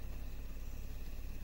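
A parked car's engine idles at a dark jungle campsite near Rishikesh, Uttarakhand, giving a steady, faint low rumble with no talking.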